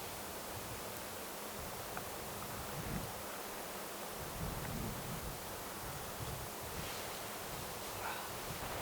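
Strong, gusty wind outdoors on a Finnish nature outing, blowing at roughly eight metres per second as a continuous broadband roar with rumbling buffets against the microphone, no voices.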